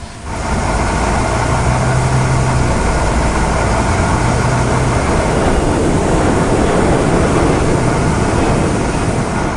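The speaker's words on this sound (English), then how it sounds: "Start engines." Boeing 777-300ER jet engines in a flight simulator run as a loud, steady, broadband roar that rises at the start and then holds without a break.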